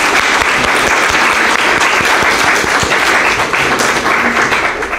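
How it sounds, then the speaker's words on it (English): Audience applauding graduates at a Canine Companions Northeast Region graduation ceremony, a loud, dense and sustained clapping from many hands filling the room. "Let's give a round of applause for our graduates."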